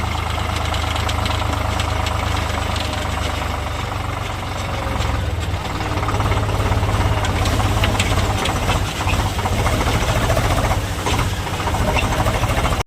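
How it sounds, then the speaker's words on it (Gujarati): A heavy, loaded tractor engine runs steadily and loudly throughout on the way to a farmhouse, with a low knocking rumble and constant vibration. "હવે આપણે ટ્રેક્ટર ભરીને નીકળીએ છીએ"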